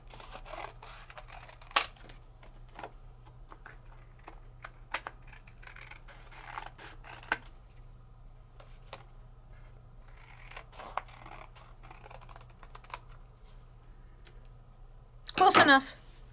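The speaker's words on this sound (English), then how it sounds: "I'm just gonna cut myself another piece of paper" Scissors snip through a sheet of paper at a crafting table during a card-making session with Sizzix dies and Jacquard inks, a short, close crisp burst near the end after quiet rustling and scattered taps, with a steady low hum underneath.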